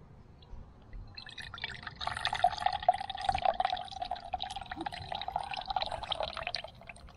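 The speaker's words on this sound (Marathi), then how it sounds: "पाण्याला आता उकळी आलेली आहे." Water comes to a boil in a pot on a wood-fired earthen stove outdoors on a farm in Satara, Maharashtra, with a soft, continuous bubbling and dense, irregular popping over faint background hiss, without speech.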